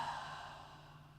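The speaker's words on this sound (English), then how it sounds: "Exhale, just let it go." A single deep exhale ending a yoga breathing practice, a soft breathy sigh close by that fades gently over about a second.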